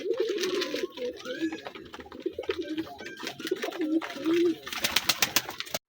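A pet pigeon coos repeatedly in eager bursts, close and fairly loud, calling while watching other pigeons outside, with a voice speaking over it and some tapping near the end.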